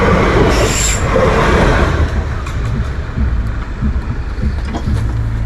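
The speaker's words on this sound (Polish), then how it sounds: "bo właśnie przejeżdża pociąg" Loud train rumbling past close by at a level crossing, wheels clattering steadily with a brief high squeal near the start.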